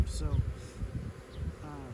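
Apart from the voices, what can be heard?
honeybee swarm buzzing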